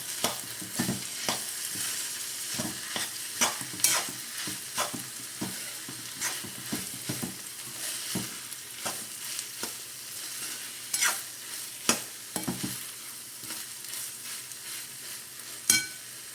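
Fish and onions fry in a pan, a steady close sizzle broken by repeated scraping and clacking strokes of a spoon stirring at an uneven rhythm, with no talking.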